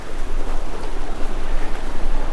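A waterfall roars in a Colorado canyon along a hiking trail, a loud, steady rushing wash of water close by, continuous and unbroken with no voices.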